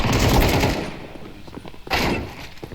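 Bursts of rapid automatic gunfire in the shooter game CS2, a loud dense volley at the start that fades, then a second sharp burst near the end.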